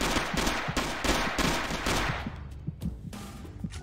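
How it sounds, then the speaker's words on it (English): Rapid video game gunfire as the player shoots a bunch of people, loud close bursts of shots in quick rhythm that thin out toward the end. "I'm going to try and just shoot a bunch of people before I leave."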